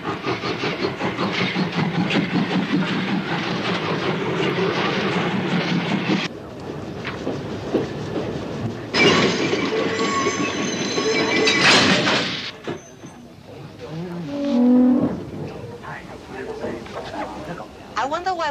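A train climbing a steep mountain pass, with loud rumbling, hissing rail noise and clanks that cut off abruptly partway through, followed by quieter, uneven sounds.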